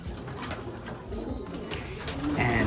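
Young racing pigeons cooing in a loft of about fifteen to twenty birds, soft repeated coos over a low background hum, growing a little louder toward the end.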